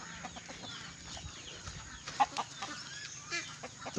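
Chickens cluck softly at feeding time, quiet irregular clucks and murmurs over a steady low background hum, with no talking.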